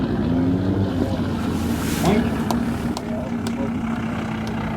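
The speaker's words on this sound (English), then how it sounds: "there goes that cylinder on Butch's airplane" Turbocharged airplane engine at a STOL drag race, running rough as it loses a cylinder, a steady loud outdoor drone with a few sharp intermittent pops, under crowd noise and wind.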